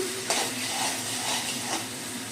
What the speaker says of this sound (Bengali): আদা রসুনের সঙ্গে পেঁয়াজটা আমি 2 মিনিট মতো কষিয়ে নেব।